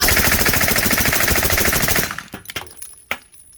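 A suppressed AR 9mm rifle fed from 32-round Uzi magazines fires a fast, continuous burst of closely spaced shots, loud and near, then stops abruptly, with a few scattered clanks and a single sharp report afterward.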